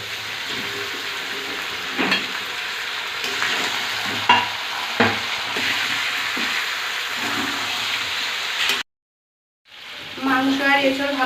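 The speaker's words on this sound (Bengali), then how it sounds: "মাংস আর এঁচড় ভালোভাবে কষাই হয়ে গিয়েছে" Chicken pieces and raw jackfruit sauté in a pan, giving a loud, continuous sizzle with repeated spatula scrapes and clanks. After a brief silence, a voice speaks near the end.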